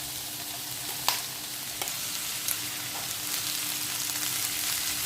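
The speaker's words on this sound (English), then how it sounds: "So in goes the rice." Rice for vegetable fried rice stir-fried in a hot pan, with a constant close sizzle broken by a few sharp scrapes and knocks of the utensil against the pan.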